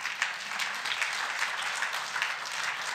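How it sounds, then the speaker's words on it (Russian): A church audience applauding during a home-group testimony service, dense and loud clapping from a room full of people, continuous for a few seconds with no talking. "Дайте аплодисменты ей."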